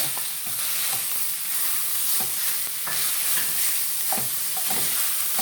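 Ground beef for closed esfiha filling sizzling in a pan after garlic: a steady loud frying hiss with occasional soft taps and stirring scrapes, no voices.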